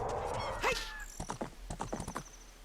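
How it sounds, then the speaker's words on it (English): Horse riding in the Zelda: Ocarina of Time video game, with clip-clop hoofbeats in a quick rhythmic series after a loud whinny near the start, the horse Epona heading to Lake Hylia. "You rode the horse all the way here."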